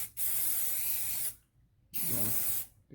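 Two long, loud hissing bursts from a spray can during repair work on the Mark Levinson speakers of a Lexus GS350, each lasting over a second, separated by a short pause, close to the microphone.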